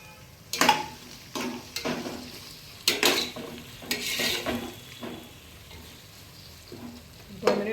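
Green chillies and ginger paste fry in a pan while a utensil stirs, sounding as bursts of sizzling and scraping with clinks against the pan in an uneven rhythm, close by.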